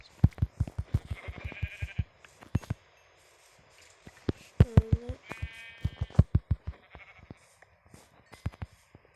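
Several video-game sheep bleat in wavering calls over a steady patter of rhythmic thumping footsteps; no one speaks.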